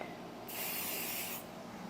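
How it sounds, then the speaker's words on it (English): Spray adhesive from an aerosol can, one continuous close hiss of about a second, loud against a quiet room backdrop. "do not spray the spray adhesive anywhere near the table"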